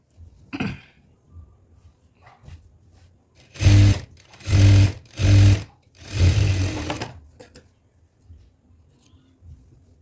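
A sewing machine stitches the folded hem of a chudidar pant in four loud, close bursts of rapid mechanical whirring, each lasting about a second. Quieter rustling and handling of cloth fill the gaps between runs.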